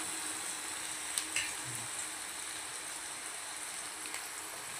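Onions sauté with moong sprouts in a pan, giving a steady close sizzle with a few light stirring knocks, moderately quiet and with no talking.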